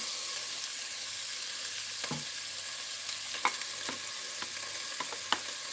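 Chopped onions sizzle in butter and oil, a steady close frying hiss with occasional light pops and stirring clicks, no voices.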